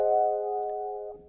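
A single sustained major-minor seventh chord rings out steadily, its stacked tones holding evenly before a slight fade and a soft shift near the end, with no talk.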